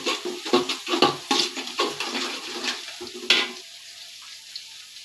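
Biryani ingredients with cardamom browning in a pan, a close crackling sizzle with stirring bursts that ends abruptly, leaving only faint quiet background.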